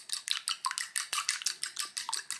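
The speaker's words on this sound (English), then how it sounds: "I'm going to whisk this all up together real quick" Quick, steady whisking of an egg mixture with seasoning in a bowl for air fryer egg bites, about a dozen rhythmic scraping strokes per couple of seconds, close and moderately loud with no talking.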